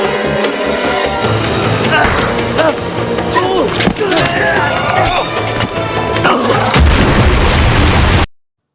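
A loud grenade explosion booms in a film, with bursts of crashing debris over a dense soundtrack and voices mixed in.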